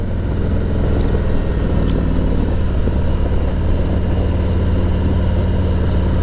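Icon Revival motorcycle being ridden, a continuous loud engine rumble with wind noise that holds steady throughout, no talking.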